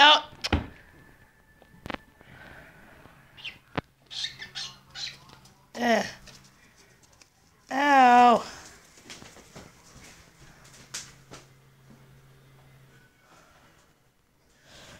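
A pet bird inside a hamster's cage gives short squawks and chirps among cage rattles and scuffling, close by, while a person talks and exclaims in between.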